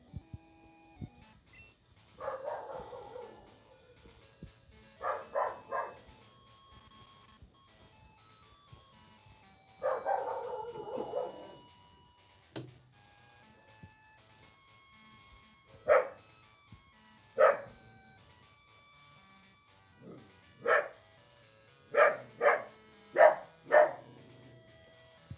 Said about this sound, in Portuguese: Tem esse cachorro.